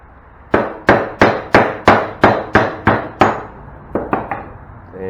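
Hammer taps on the steel body of a 1965 Mustang being prepared for paint: about ten sharp, evenly spaced metallic blows ringing close up, then a few lighter, quicker taps near the end.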